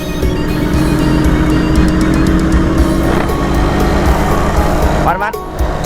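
A Yamaha TZR150 two-stroke motorcycle ridden at steady throttle, its loud buzzing engine drone close and continuous, with a rev change near the end and a voice talking over it.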